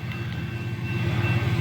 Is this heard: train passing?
yes